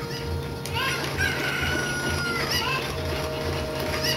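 Cucco chickens from the Zelda game Ocarina of Time crow and cluck in a few sweeping, bright calls layered over steady game background music.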